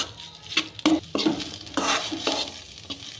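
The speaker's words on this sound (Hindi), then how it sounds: "इसको हम थोड़ी देर घी में इस तरह फ्राई कर लेंगे।" Cauliflower fried in ghee in a kadhai for cauliflower halwa, a close sizzle broken by repeated scraping strokes and metal knocks of a spatula, fairly loud and uneven in rhythm.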